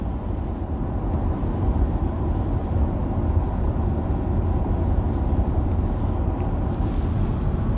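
Steady low rumble of a car being driven, continuous road and engine noise with some wind buffeting, no talking.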